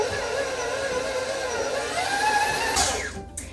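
An electric mixer creams cream cheese and sugar on high for a lemon-blueberry pound cake, a steady whirring motor drone that swells slightly before a short clatter near the end.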